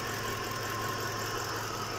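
A 2008 Mercury Grand Marquis engine idles after an intake manifold replacement that fixed a coolant leak, a faint, steady low hum with a constant tone, heard alone with no talking.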